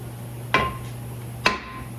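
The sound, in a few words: hammer blows on brake rotor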